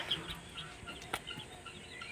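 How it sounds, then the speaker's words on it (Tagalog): Turkey and chicken chicks chirp and peep faintly in a busy cluster, a few sharper calls standing out over low background noise. "Ayan ang mga sisiw ng pabo. At saka sisiw ng manok."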